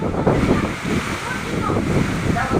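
Strong typhoon-driven waves from Typhoon Odette surge and roar as a continuous, loud, wind-blown wash of surf with gusty rumbling throughout.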